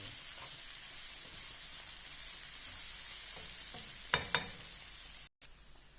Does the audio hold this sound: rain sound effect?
no